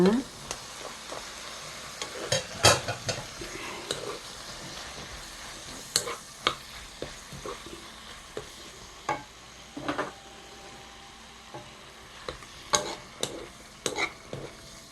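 Fish cake is stir-fried with shishito peppers in an uncovered pan for a spicy Korean braise, a steady sizzle broken by scattered clinks and scrapes of the spatula, close and moderately loud.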